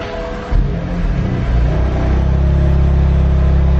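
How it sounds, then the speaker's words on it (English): A BMW M2 Competition engine starts and settles into a deep, throaty idle with low rumbling revs, loud and close. "we'll turn this thing on, get some revs going"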